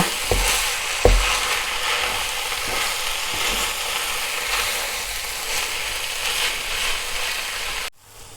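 Thai glass noodles stir-fry in a pan with a loud, steady sizzle and rhythmic scraping and clacking of a utensil up close, ending abruptly near the end.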